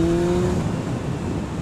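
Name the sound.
motorcycle engine while riding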